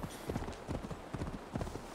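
Horse hooves clip-clop in steady repeated beats as a mount trots along in Assassin's Creed Valhalla, close and fairly quiet over a soft background hiss.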